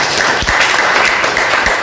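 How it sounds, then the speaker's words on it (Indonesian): A church congregation claps together in a dense, steady wash of applause, loud and close, sustained through a short burst. "Kasih tepuk tangan untuk Tuhan"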